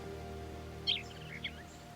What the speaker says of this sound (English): A real live bird.